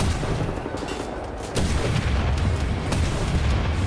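Missile launcher blasts in the shooter game Wolfenstein: The New Order, loud booming explosions over a continuous rumble of gunfire, with a sharper hit midway and another near the end.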